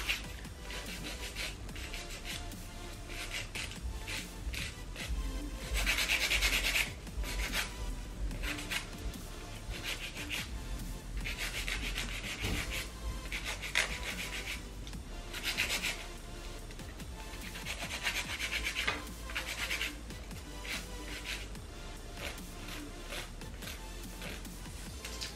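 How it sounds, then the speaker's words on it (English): Fingernails being filed and reshaped with a dollar-store nail file during an ombre manicure, a close, steady back-and-forth rasping that continues in repeated strokes throughout, with brief louder bursts and no talking. "So I'm just gonna reshape the nails a little bit."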